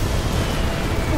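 A loud, rumbling boom of ship cannon fire in Kingdom Hearts III, a dense burst of low roaring noise filling the short moment with no pause.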